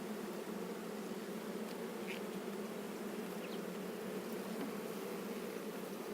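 Honeybees buzz steadily around an open Flow Hive during a brood inspection, a dense, continuous hum close by with no talking.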